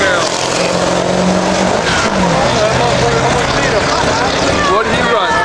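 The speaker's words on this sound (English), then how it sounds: "Oh, it is a Camaro." Chevrolet Camaro launching at a drag strip during cruise night at Lancaster Speedway, New York, with tires squealing and engine roaring close by amid crowd noise and voices.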